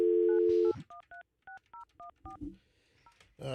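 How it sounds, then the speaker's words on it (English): A telephone dial tone gives way to a rapid sequence of about eight dual-tone keypad beeps as a cell phone number is dialed, clear and close, ending with a brief rustle. "Let me call her cell phone."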